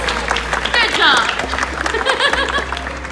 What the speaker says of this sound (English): Another round of applause for Miles.